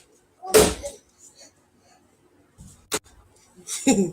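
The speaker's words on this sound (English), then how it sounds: "Close the door." A door being shut indoors produces a heavy thud, then a sharp latch click a couple of seconds later, with brief muffled sounds between and at the end.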